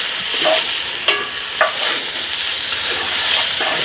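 Garlic stirred in a cast-iron Dutch oven, a steady sizzle broken by a few sharp scrapes and clicks of the spoon against the pot, close and fairly loud, with no talking.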